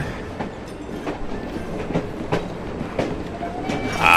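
Train rolling along the tracks in Assassin's Creed Syndicate, with a steady clickety-clack of wheels hitting rail joints at a regular rhythm, loud and close, and a brief high squeal near the end.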